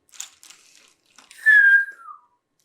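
A person whistles slowly, with faint breathy starts and then one clear sustained note that slides gently downward before fading out, close and alone.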